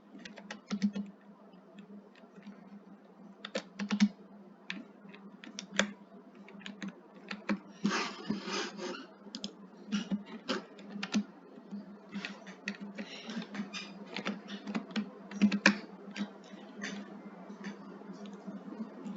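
C++ code is typed on a computer keyboard: steady close key clicks in uneven bursts with brief pauses, plus a few heavier keystrokes, over a low hum for about nineteen seconds.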